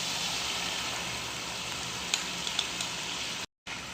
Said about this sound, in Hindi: और फिर हम इसकी पेस्ट के साथ भुनाई करेंगे।